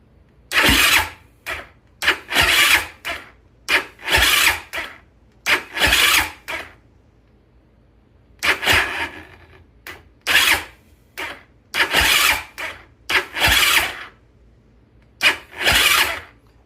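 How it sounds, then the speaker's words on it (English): A Yamaha YFZ450 ATV engine cranks on its starter, labouring hard past the compression stroke in eleven or so separate bursts, each a strained whirring turn-over with short pauses between, loud and close with no talk. "It is really struggling to turn over past that compression stroke"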